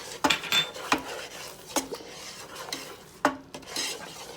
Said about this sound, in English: Stir it up nice and good.